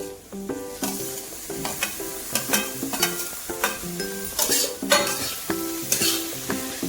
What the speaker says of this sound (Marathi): टॅमॅटो चांगले परतून घ्यायचे आहे